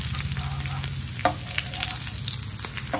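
About ten garlic cloves frying in hot oil with cumin and dried red chillies, browning to a medium colour, give a steady close sizzle with faint stirring scrapes and one sharper clink.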